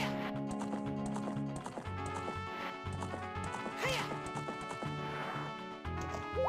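Epona, the horse in the Ocarina of Time video game, gallops with a steady, quick clip-clop of hooves under continuous game music and occasional sound effects, lasting throughout.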